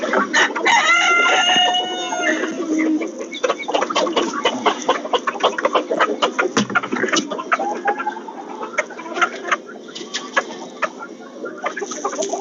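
Chickens cluck and call busily at feeding time, with a rooster crowing early on among steady close clucking and chatter. The flock includes silkie hens.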